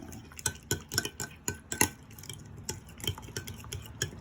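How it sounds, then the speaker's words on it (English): A spoon stirs a marinade of ketchup and vinegar for baked chicken, giving a quick run of clinking, scraping taps against the bowl that keep going in an irregular rhythm. "And then we're going to give it a stir"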